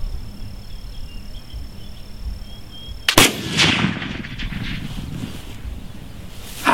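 A single loud black powder rifle shot cracks out after a quiet outdoor stretch with insects chirping, followed by a lingering rumbling boom and echo as the smoke-heavy report fades.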